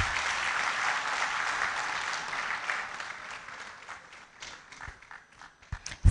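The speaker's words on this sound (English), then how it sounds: "A round of applause for the family." A crowd at a university inaugural lecture applauds steadily, then the clapping thins and tapers off, ending in a few scattered claps.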